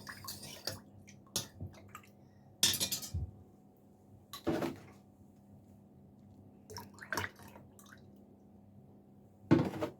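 Milk poured into a vessel while making rose milk: several short splashing pours with liquid trickles and a clink of a container, quiet and close against a faint background hum.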